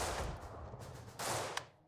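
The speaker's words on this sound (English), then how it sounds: "And basically just trade cannon shots." Cannon and rifle fire from airship combat in the strategy game Airships: Conquer the Skies. Bursts of gunfire trade back and forth at a moderate distance, with a sharper crack near the end before the noise fades.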